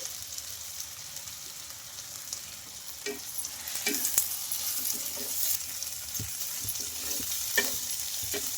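Softened tomatoes and cooked chana dal stirred in a hot pan, a steady soft sizzle under scattered scraping and tapping of a spoon, close and fairly quiet.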